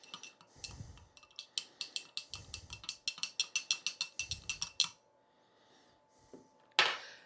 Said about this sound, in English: Now we're going to give that a stir to mix it up